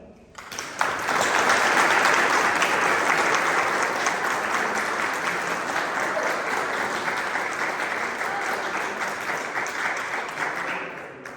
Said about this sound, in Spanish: Pido un aplauso para el autor.